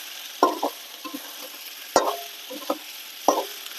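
Chicken pieces for polao get stirred and fried in a pan, a few distinct scraping strokes and clacks over a soft sizzle, close by with no speech.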